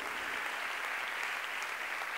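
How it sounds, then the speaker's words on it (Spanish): Steady, dense applause from a concert audience fills the whole stretch, loud and continuous with no pauses or voices on top. "por esos cariñosos aplausos"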